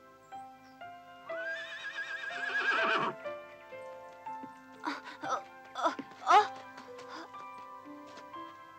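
A horse neighs loudly in a long whinny, then gives a few shorter snorts and whinnies, with faint ticking in the background.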